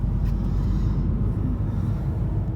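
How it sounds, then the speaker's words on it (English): Steady deep rumble of heavy lorry engines rolling into a ferry port, loud and continuous with no voices. "there's like loads of lorries and stuff just arriving now"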